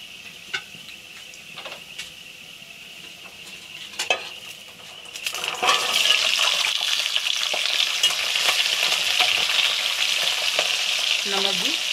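Potatoes fry in hot oil for Meerut-style aloo methi bhujia. A quiet stretch with a few scattered clinks gives way to a loud, steady, close sizzle that continues to the end.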